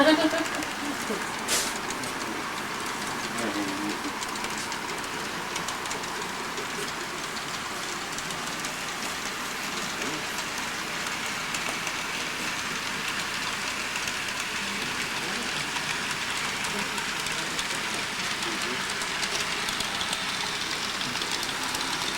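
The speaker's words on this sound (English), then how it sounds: "I'm trying to follow this train around." A train rolls along the rails in a continuous low rumble with faint clickety-clack, holding steady and fairly loud throughout.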